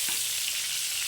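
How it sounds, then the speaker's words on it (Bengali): A short burst of loud, hissing sizzle as water hits a hot pan of frying eggplant, close and continuous with no voices. "দেখুন এই যে জলটা আছে আমি এই জলটাকে এর মধ্যে দিয়ে দিচ্ছি।"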